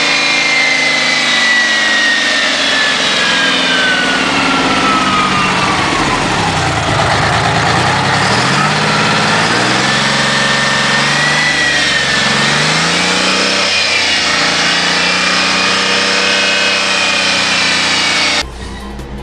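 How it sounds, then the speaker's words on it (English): A 1984 Brute Bus with a Detroit diesel engine from a Grand Theft Auto game drones loudly and steadily, its pitch rising and falling as it revs and eases off, continuous and close, ending with a brief drop in level. "these are Detroit diesels we're talking about here, so while they don't make a lot of power, they make up for a lot of torque and a lot of noise"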